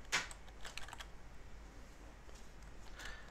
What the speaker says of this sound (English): Now if I type in ID Simon